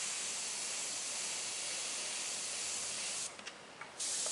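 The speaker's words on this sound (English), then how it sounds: "I'm spraying right on the edge and coming off of it" Spray paint hisses continuously from a can aimed at the edge of a stencil, a steady broad hiss that briefly cuts out and then resumes near the end.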